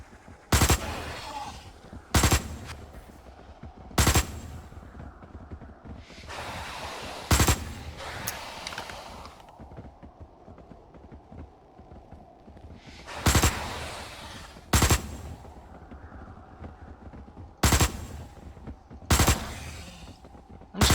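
Weapons fire in Osiris: New Dawn as loud, sharp gunshots in close bursts, spaced irregularly over a quieter rumbling game background, with no talking.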